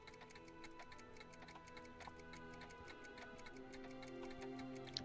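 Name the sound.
clocks ticking in Back to the Future video game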